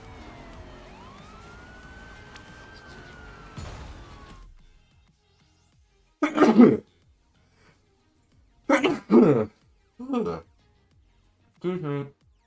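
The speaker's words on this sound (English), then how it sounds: "A wee bit of a sneeze." A streamer sneezes during a chilled racing game session: after the game sounds cut out, several sharp, close sneezes and sneeze-like bursts come in quick succession with silence between.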